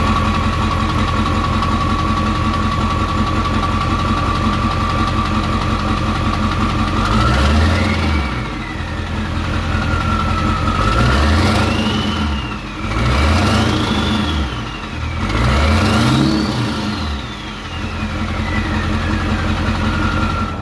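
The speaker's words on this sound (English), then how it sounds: "starting the engine and revving it without the muffler." A 2002 Ford 7.3 Powerstroke diesel van engine with a straight pipe and no muffler, heard from outside: steady loud idle, then three rising revs that climb and fall back, each with a deep rough exhaust roar.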